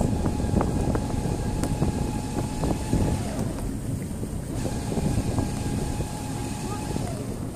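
Strong wind buffets the microphone in a continuous roar during a Sinclair C5 ride at Weston-super-Mare, with water sloshing and occasional knocks underneath.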